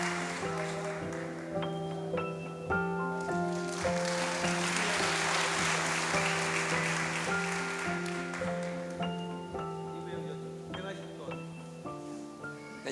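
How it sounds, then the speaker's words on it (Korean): A church congregation applauds during a Sunday service, with a moderate wash of clapping in the middle over sustained keyboard or organ tones that carry on throughout. "그리고 우리 조인영 장로님도 열심히 첨부 활동하고 계시는데 큰 박수 한번 쳐주시면 감사하겠습니다"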